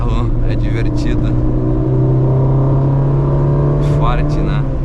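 A Chevrolet Corsa with a swapped engine drives along under steady, loud engine drone that rises slightly in pitch, heard from inside with someone talking over it.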